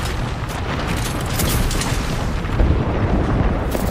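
Bangalore's ultimate artillery barrage in Apex Legends pounding the ground ahead, a continuous heavy rumble of overlapping booms and blasts that swells louder toward the end, with no talking over it.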